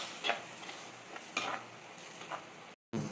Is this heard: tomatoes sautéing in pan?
yes